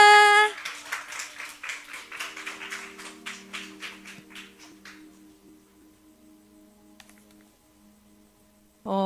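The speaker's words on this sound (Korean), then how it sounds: "박수!" A small group of children at a junior church gathering claps for about five seconds, the rapid claps thinning out and fading away, with quiet room tone after and a voice starting at the end.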